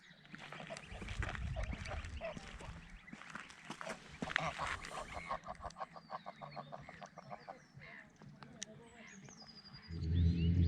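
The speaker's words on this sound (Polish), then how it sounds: "Tam dzikie gęsi." Flock of wild geese honking repeatedly at moderate distance, overlapping calls in a busy chorus that thins out before a low rumble at the end.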